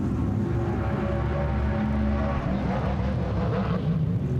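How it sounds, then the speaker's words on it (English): Trans Am TA, XGT and SGT muscle race cars at Brainerd roar in a steady, loud, continuous engine drone that fills the whole span without letting up. "if you didn't hear everything he said over our fantastic muscle cars"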